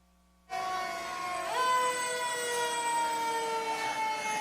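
A fire department truck siren blares at a St. Patrick's Day parade, a loud, close, sustained wail that rises and holds in pitch, starting abruptly and continuing steadily with no voices over it.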